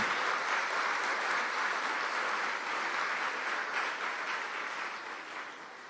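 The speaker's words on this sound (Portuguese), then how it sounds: "Eu queria que você liberasse um aplauso" Steady, dense applause from a church congregation at a family service, sustained and loud throughout, easing off slightly toward the end, with no talking over it.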